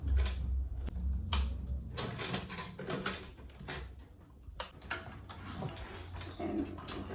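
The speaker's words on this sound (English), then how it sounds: "So I'll just back stitch here." A sewing machine back-stitches leather on an Ankara fabric bag, a close run of quick mechanical clicks and whirring bursts that stop and restart, with a couple of sharper clacks from the machine along the way.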